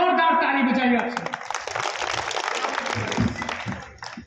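An audience claps at an outdoor Hindi poetry recital, a kavi sammelan, in a dense, steady burst of applause that follows a loud voice at the start and then fades out over several seconds.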